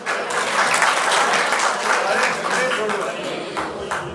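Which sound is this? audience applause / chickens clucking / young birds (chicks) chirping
audience applause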